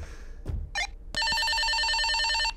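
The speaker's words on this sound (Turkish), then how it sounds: "Ah telefon çalıyor." Telephone in the video game Escape the Backrooms ringing with an electronic warbling bell tone, loud and continuous after a brief thump and chirp.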